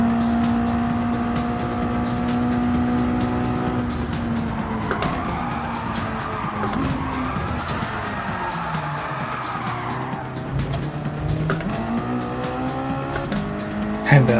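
Mazda MX-5 race cars lap a track in Gran Turismo, engines droning and shifting pitch as they rev up and down through gears, with tire squeal through corners and other cars close by, steady and loud throughout.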